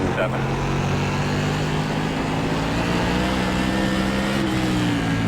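A Whelen Modified race car engine at South Boston in iRacing drones steadily at high revs throughout, a loud continuous buzz with slight pitch shifts and no break.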